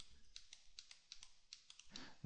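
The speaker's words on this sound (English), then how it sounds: "I'm going to hit the X key on my keyboard" Computer keyboard keys tapped in a quick, uneven run of soft clicks, close and fairly quiet, with a louder cluster at the end; no speech.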